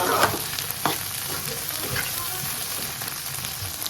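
Egg bhujia, scrambled eggs, frying in a pan: a steady, dense sizzle with occasional louder crackles and light stirring, heard up close throughout without talk.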